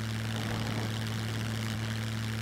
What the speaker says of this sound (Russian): Добавили также спортбайк. Очень приятный звук.